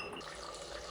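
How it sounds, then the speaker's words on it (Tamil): Water poured over potatoes in a cooking pot, a brief dense rushing splash that runs steadily throughout at moderate loudness, close by. "உருளைக்கிழங்கு வேகிறதுக்கு தேவையான அளவு தண்ணி ஊற்றி அதையே வேக வச்சுக்கலாம்."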